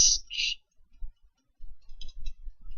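A computer mouse clicks a few times in a quiet room during office software work, short sharp taps close by with a pause, then a small cluster of clicks later.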